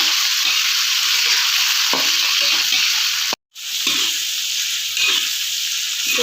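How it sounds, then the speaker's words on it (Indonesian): Tomatoes, curly red chilies and small chilies being stir-fried in a pan for spicy chicken intestines, a steady loud sizzle with stirring scrapes, briefly cut off midway, no voices. "Lalu kita tumis-tumis kembali sebentar."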